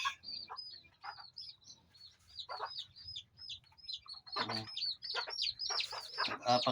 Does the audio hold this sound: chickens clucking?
yes